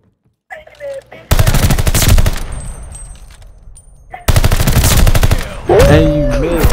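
Automatic gunfire in the first-person shooter Call of Duty: Vanguard, two loud dense bursts of rapid shots close up, separated by a quieter stretch, with a brief voice at the end.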